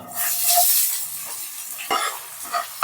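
Chopped onion hits hot oil already holding cumin, curry leaves and green chilli for veg fried rice, giving a steady, close sizzle with a few sharper crackles and stir scrapes near the end.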